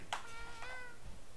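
A cat in the video game Tales of Xillia 2 gives a short meow, then a second fainter one, heard alone and fairly quiet.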